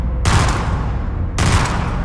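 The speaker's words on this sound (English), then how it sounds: "The Master Chief is using a battle rifle, which sounds like this." Two sharp bursts of Halo battle rifle fire, loud and close, separated by about a second of quieter echo and rumble.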